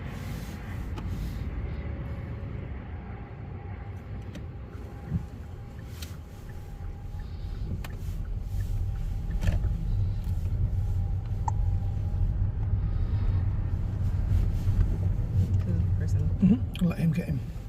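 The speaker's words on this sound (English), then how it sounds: "there's a cluster of cars coming" Several cars pass on a Leeds suburban road in Horsforth, a steady low traffic rumble that swells in the second half, heard from inside a car with people talking over it.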